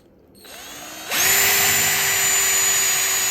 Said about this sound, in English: Again, 17/64 drill bits, 1 above the 1/4 inch.